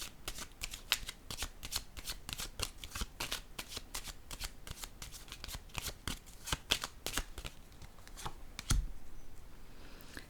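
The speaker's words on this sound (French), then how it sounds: "je vais déposer une carte sur elle" Tarot cards shuffled by hand in a fast run of crisp, close flicks and slaps for several seconds, ending with a soft thump as a card is laid down.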